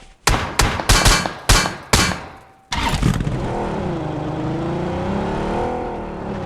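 A car in PUBG Mobile, a battle royale video game, is heard after a series of sharp metallic clangs, its engine revving into a steady, wavering drone that continues to the end.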